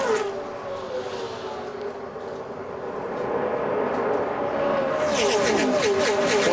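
NASCAR race cars roaring around the track at the 2007 Daytona 500, a steady loud engine drone that swells as a car passes near the end, with a commentator talking underneath.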